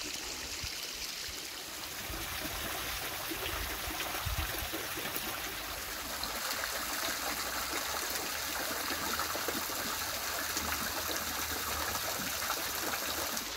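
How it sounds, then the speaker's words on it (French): Water flowing gently in a stream, heard from just below it, a continuous soft rushing and trickling wash that stays steady and fairly close throughout. "Je vous laisse apprécier le son de l'eau qui coule tout doucement."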